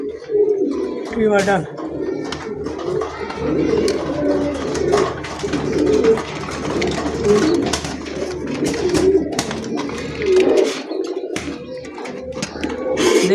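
A pair of velvet shield pigeons cooing with repeated low, throaty calls close by, while someone talks over them throughout.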